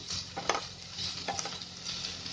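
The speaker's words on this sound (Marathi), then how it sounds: "कांदा चांगला फ्राय करते" Chopped onion frying in a pan gives a quiet, continuous sizzle, with a couple of soft stirring scrapes breaking through. No one speaks.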